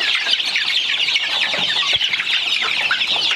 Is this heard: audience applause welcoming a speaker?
no